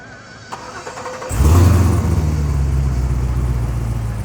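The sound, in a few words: 1963 Corvette engine started remotely from phone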